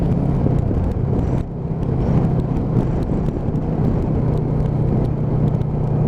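Loncin Voge 500DS motorcycle riding in traffic on a 40 mph road, a steady engine drone mixed with loud wind rush across the microphone, continuous with a brief dip partway through.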